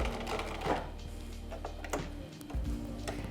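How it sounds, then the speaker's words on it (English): Domestic sewing machine stitching in reverse and then forward, a fast rhythmic mechanical chatter that stops briefly and starts again, close and fairly loud. "use your reverse stitch to go back off the end and then forward again"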